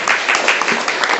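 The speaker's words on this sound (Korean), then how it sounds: "이렇게 박수 한번 부탁드립니다" An audience at a peace concert lecture in a library breaks into applause, a dense, loud burst of clapping from many hands that is sustained throughout the short moment.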